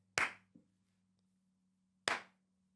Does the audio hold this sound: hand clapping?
yes